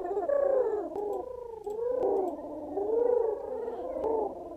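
Pigeons cooing in the Pigeon Game, soft rolling coos repeating continuously at steady moderate loudness, several overlapping calls with no talk.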